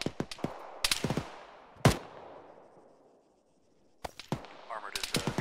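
Sharp gunshots crack in scattered bursts during a crossfire firefight in the game Arma, some close and loud, others fainter, with a brief lull midway before rapid shots resume.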